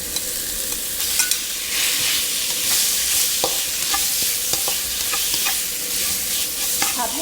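Pork belly stir-fried in a hot pan for a spicy Thai dish, a continuous loud sizzle with scattered scraping and clacking of a spatula stirring the meat, no voices.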